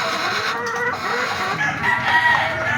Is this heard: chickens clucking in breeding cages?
yes